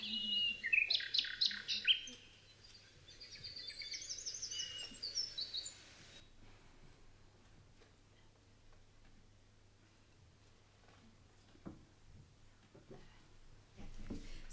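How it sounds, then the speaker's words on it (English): An AI rendering of a 1982 canary recording from the coastal dunes of Kennemerland: bright, rapid canary trills and chirps fill the first few seconds, then give way to faint ticking and soft background noise, with scattered quiet sounds later. "it's a canary that has been recorded in 1982 in the dunes of Kennemerland"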